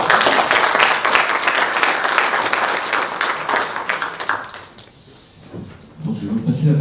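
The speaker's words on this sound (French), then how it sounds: "Je crois qu'on peut les applaudir." Applause from a conference audience for two speakers after a session, dense clapping for about four seconds that thins and dies away, followed by a speaker's voice in French.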